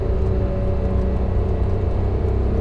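A Ferrari Testarossa's engine drones steadily and loudly from inside the car while driving, a constant low rumble with no break and no talking over it.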